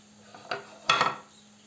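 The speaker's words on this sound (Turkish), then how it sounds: "Şöyle biraz karıştıralım." Onions and peppers being stirred in a pan, two clinks and scrapes of a utensil against the pan, the second louder and longer, over a faint background hum.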